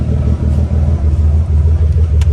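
A car engine idles steadily at close range on a hot day after running for a long while, giving a constant low rumble with no revving.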